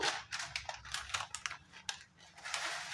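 Dry vermicelli (sewai) tumbles into an empty wok with a run of crisp, brittle crackles and rustles, close and fairly quiet, with irregular sharp clicks.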